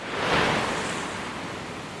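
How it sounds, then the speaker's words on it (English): Water from the four-story Surreal water feature at Expo 2020 Dubai crashing down all around, a broad steady roar of falling water with no voices. "Rising 4 stories high, the water comes crashing down from all around you."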